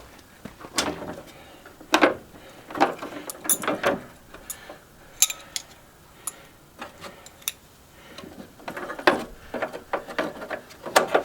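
A nut turning inside an old table saw being scrapped, irregular close metallic clicks, ratcheting and clanks in uneven bursts, with no talking.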